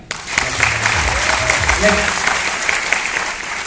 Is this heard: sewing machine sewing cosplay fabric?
no